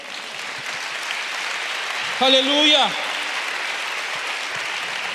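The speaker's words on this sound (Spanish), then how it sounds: "dale un aplauso al Señor" Congregation clapping for the Lord at a Spanish-language church service, a dense steady patter of hands throughout, with a voice briefly calling out in the middle.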